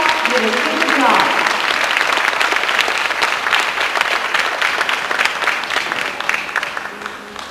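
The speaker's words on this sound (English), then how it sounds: "How about a round of applause for all these young ladies?" An audience claps loudly for the young contestants at a 1990 pageant, dense applause that gradually thins and fades toward the end, with a voice speaking briefly near the start.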